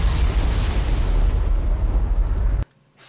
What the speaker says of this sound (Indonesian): tempat tersebut meledak